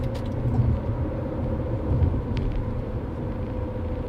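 Steady low road rumble from a car cruising along a highway with a semi-truck passing close alongside in the next lane, a continuous droning roar with slight swells and no talk.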